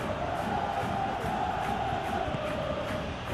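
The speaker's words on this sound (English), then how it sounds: "the crowd clearly like what they just saw" A football stadium crowd roars steadily in PES 2021, a dense, loud wash of cheering from thousands of fans holding at a constant level throughout.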